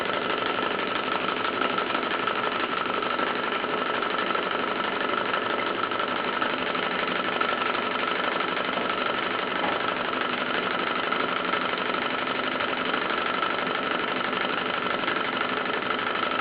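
A Bowman M167 model steam engine running with a partly blocked steam pipe, giving a steady, continuous mechanical chuffing and whirring at close range, uneven but constant, with no talk.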